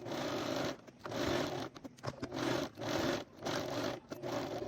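A sewing machine stitches a zipper into a dress or top in bursts of steady whirring with short pauses between runs, close and fairly quiet, with no talking.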